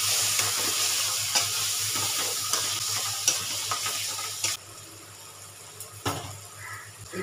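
Turmeric and Kashmiri chilli powder masala stir-fried in a pan, a steady close sizzle with repeated scraping clicks of a spoon stirring, no talking.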